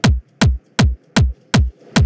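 Processed psytrance kick drum sample with added white noise and boosted highs, six punchy booming hits at a steady quick tempo, each with a bright noisy attack and a short decaying tail, played alone.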